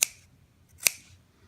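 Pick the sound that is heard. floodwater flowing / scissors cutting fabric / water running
scissors cutting fabric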